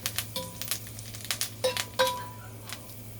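Steak pan-frying with thyme in the pan, a faint sizzle under sharp metallic clinks and scrapes of utensils against the pan, scattered through a few seconds with no talk.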